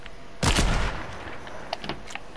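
A sniper rifle shot in a battle-royale style video game: one loud, sharp blast with a short decaying tail, followed by faint scattered distant shots.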